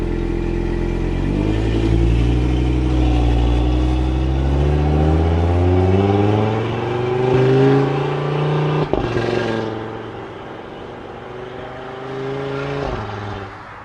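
A modified Audi RS3 fitted with a sports downpipe revs hard from inside the car, its engine note climbing steeply through several rising sweeps, dipping briefly, then flaring again, loud and close with no talk.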